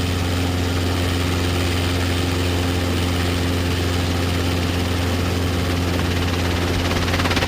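A Robinson R22 training helicopter running close by, its engine and rotor giving a loud, steady droning hum with a rapid fluttering beat throughout, constant and unbroken with no talk.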